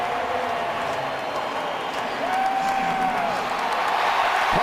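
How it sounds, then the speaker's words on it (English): Seahawks home crowd at a football game against the Dallas Cowboys, a loud, steady roar of cheering filling the stadium beneath a commentator's voice. "Now this crowd is energized."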